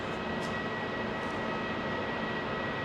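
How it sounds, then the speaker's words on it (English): A British Airways Airbus A380 jet rumbles on takeoff from Heathrow, a steady broad roar with a faint high whine, heard from a distance without a break. "Double BA 380s coming out, folks."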